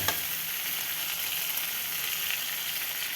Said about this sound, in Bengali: তো এটা ভালো মতন কষাই নিচ্ছি, তারপরে মাছ আর ধনিয়া পাতা দিয়ে ভালো মতন এটা কষায়